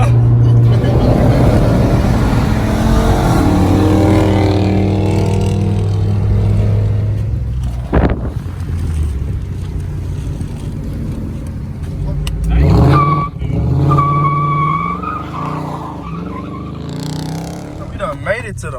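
A loud 2019 Dodge Charger R/T roars hard under acceleration, a deep sustained engine drone up close that drops away after a sharp thump, then resumes with a rising rev while people talk over it.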